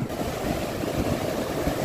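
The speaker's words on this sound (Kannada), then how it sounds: "ಸಿಕ್ಕಾಪಟ್ಟೆ ಅಲೆಗಳು ನೈಟ್ ಟೈಮಲ್ಲಿ ನೋಡ್ಬೋದು ನೀವಿಲ್ಲಿ." Sea waves wash and rumble at a beach at night, a low continuous roar with wind buffeting the microphone and no talking.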